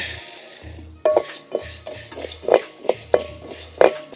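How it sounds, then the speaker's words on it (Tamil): Coriander seeds roasting in a pan for Tamil-style chicken kulambu, with a utensil scraping and clinking against the metal in an irregular rhythm of sharp strikes over a soft background hiss. "கொத்தமல்லி வறுத்துக்கலாம் கண்ணு"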